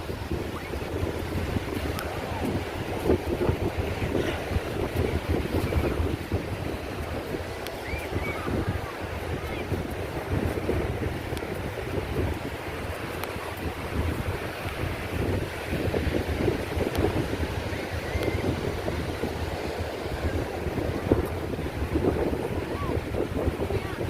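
Steady surf and wind wash over a beach at Angsana Bintan, Indonesia, with continuous broadband roar and gusty microphone buffeting, and faint voices mixed in throughout.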